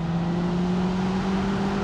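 A 2008 Mercedes SLK 200 Kompressor with an automatic gearbox drives along, its engine giving a steady, moderately loud hum with a constant tone heard from inside the car.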